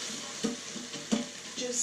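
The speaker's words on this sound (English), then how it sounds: "It's frying up nicely." Mixed tinned beans, two 400 g tins, stirred as they fry in a pan for a vegan chickpea and rice casserole, with a steady soft sizzle and a few spoon scrapes.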